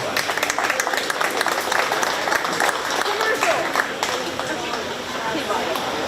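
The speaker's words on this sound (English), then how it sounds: "Let's give those individuals a nice round of applause" Spectators applaud the exhibitors of registered heifers at a 4-H cattle show at a county fair, a continuous spread of clapping from a crowd, fairly loud and steady, with a voice faintly present beneath it.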